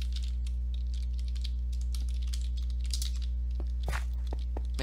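Someone types on a computer keyboard during a MineStrike game session, a steady patter of close clicks with a few louder keystrokes near the end, over a constant low hum, no speech.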